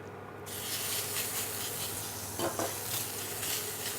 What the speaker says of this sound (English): we'll continue by adding a little bit more oil and stir frying our chicken together with some garlic